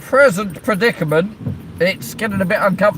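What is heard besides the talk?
No everyday noise stands out behind the speech.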